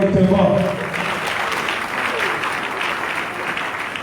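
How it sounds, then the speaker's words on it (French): Audience applause and cheering at a patriarch's funeral wake, a dense, steady clapping crowd sustained throughout with voices mixed in, loudest at the start. "On acclame encore correctement."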